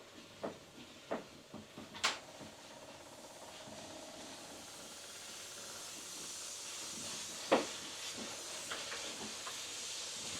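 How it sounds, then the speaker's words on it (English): A handheld garment steamer hisses steadily at close range as it steams a knitted dress, a soft continuous rush with a few small clicks and bumps at the start and one sharper knock partway through. "Let's try and give it a steam."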